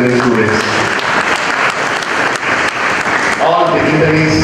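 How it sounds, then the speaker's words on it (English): Steady, dense applause fills the hall at a college student engineering convention, with voices rising over the clapping near the end. "a big round of applause to all the children and engineering students"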